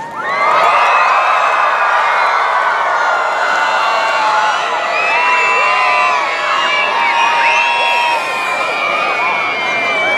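About 1,000 students at the Group Hug for the Homestead event cheer loudly, with sustained whoops and children's shouts forming a continuous roar of voices close to the listener.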